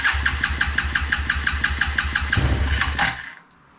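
A 1993 Suzuki King Quad 300 4x4 ATV engine runs on choke up close with a fast, uneven, loping pulse for about three seconds, then cuts out and falls quiet.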